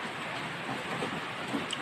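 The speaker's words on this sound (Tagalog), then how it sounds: "Uulan bigla, malakas na malakas." Sudden heavy rain pours down outdoors, a dense, steady hiss of drops across surfaces with no break, loud and enveloping throughout.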